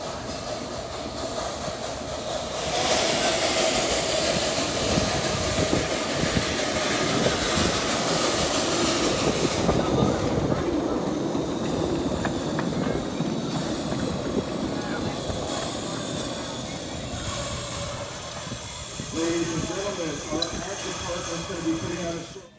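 Steam locomotive number 1 pulls into the main station at the Hesston Steam Museum during a steam and power show, with a steady rumble, hiss and clatter of the train close by and voices in the background.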